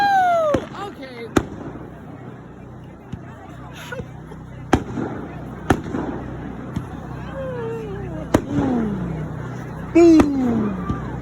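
Fireworks launching at a high school pep rally: several sharp bangs and pops spread through the clip, with whistling rising trails before some bursts, over a crowd murmur and voices.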